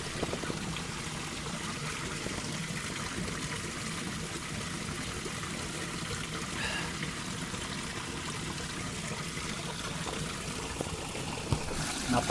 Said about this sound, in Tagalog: Ito yung bukal ng tubig sa Mount Makiling.